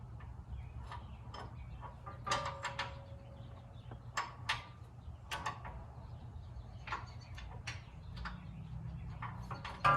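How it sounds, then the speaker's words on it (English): Metal clicks and ratcheting ticks from a wrench working a skid plate nut under an off-road vehicle during a high-clearance skid plate install, a steady run of close, small taps with brief louder clanks. "it's a little bit harder to get your wrench in"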